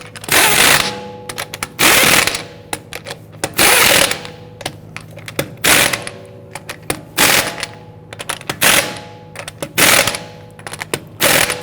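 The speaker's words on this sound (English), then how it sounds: "get those lug nuts started, and once we have them all started, we'll go ahead and snug them down" Ratchet wrench snugging down wheel lug nuts on a 2010-2019 Ford Taurus, a series of loud, close rapid clicking bursts repeating in short runs with brief pauses between.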